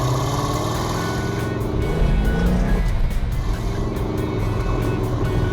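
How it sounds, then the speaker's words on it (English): A 1969 Dodge Super Bee with a 440 Six Pack V8 and 4-speed manual roars loud and close, holding a rough, steady engine drone, with a brief shift in tone partway through and constant power throughout. "Our 1969 Dodge Super Bee 446-pack 4-speed, all numbers matching car"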